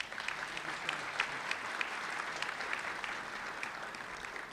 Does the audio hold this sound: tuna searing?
no